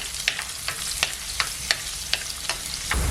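Ginger and garlic sautéing in a pan for a sardine mango curry, a steady background sizzle broken by regular stirring scrapes roughly every half second, close and moderately loud with no talking.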